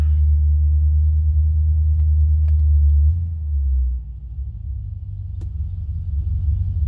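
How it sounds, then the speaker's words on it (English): A 1976 C3 Corvette engine idles steadily and loud with a deep, smooth rumble, settling to a slightly lower, even idle partway through, with no one talking. "she idles really nicely"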